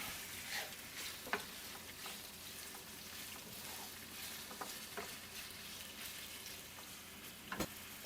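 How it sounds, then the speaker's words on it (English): Beef pieces for Beef Wellington bites sear in a hot pan, a quiet steady sizzle with occasional light ticks and taps of stirring. "We just want a nice little sear on them."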